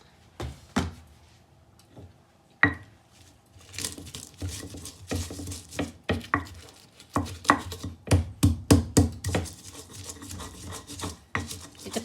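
Leunca berries being pounded and ground in a stone mortar with a pestle, irregular close knocks and scraping grinds that start sparse and grow into a quick, uneven run of thuds.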